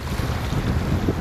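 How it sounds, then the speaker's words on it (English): Strong seaside wind buffets the microphone in a steady, loud roar with low rumbling gusts, and water and a passing boat may lie beneath it; no one speaks. "Really windy out here today."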